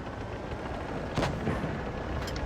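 A high-explosive tank shell detonates in World of Tanks during a tournament match, a loud broadband blast bursting out about midway through a dense, continuous roar of battle noise.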